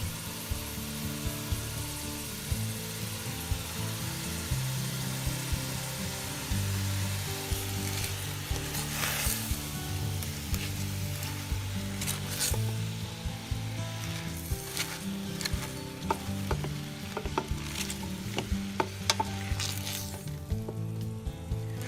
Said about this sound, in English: add the collards and spinach to the pot and stir them so they'll be coated with the oil